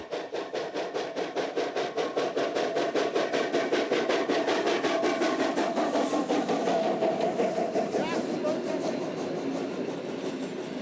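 An OL-49 steam locomotive works at the Wolsztyn depot, its exhaust beating in steady, rapid chuffs that blend into a continuous rumble of running gear and steam, close and prominent throughout.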